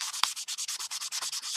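Hand sanding of a craft piece, a quick run of rhythmic back-and-forth scratchy strokes, close and fairly soft, about a dozen passes with no talk.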